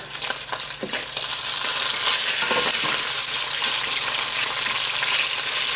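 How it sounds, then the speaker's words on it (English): Bacon frying in a pan on a hot stove, a steady loud sizzle and crackle throughout with a brief scrape of stirring partway through. "Stir that bacon Don't want that bacon to burn."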